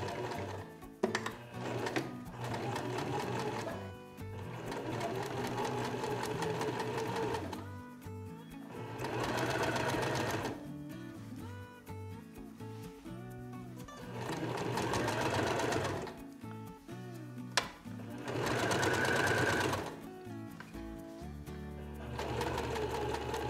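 Sewing machine stitching a skirt seam, loud rapid mechanical whirring in several bursts separated by short pauses, close up.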